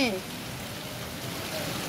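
Rain falls on a pet bird named Mithu, making a steady, dense hiss that runs unbroken from start to finish, with a brief tonal voice-like sound at the very beginning.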